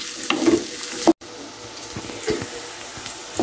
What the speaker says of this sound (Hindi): प्याज को थोड़ा सा हम गोल्डन कर देते हैं, बहुत ज़्यादा हमने इसको डार्क नहीं करना।